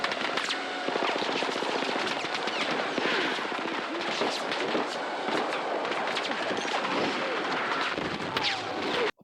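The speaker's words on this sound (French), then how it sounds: "Putain, elle est puissante la bombe" A powerful bomb explodes in a Battlefield-style video game, giving a dense, continuous roar of blasts and crackling gunfire-like bursts that stays loud and chaotic for about nine seconds before cutting off.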